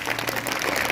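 A church congregation at a Hindi-language Sunday service bursts into a short, dense round of clapping, close and moderately loud.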